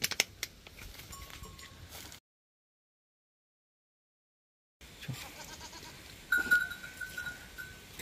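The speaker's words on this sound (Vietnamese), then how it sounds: "Bốn con dê." A few goats at a remote house in a Vietnamese border area give faint bleats against quiet rural background noise. The sound drops out briefly in the middle, and a clearer bleat comes near the end.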